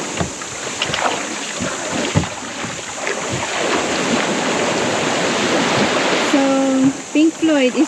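Tourist boat motoring along the Underground River at Puerto Princesa, a steady loud engine drone and water wash running throughout, with rising tonal whines near the end.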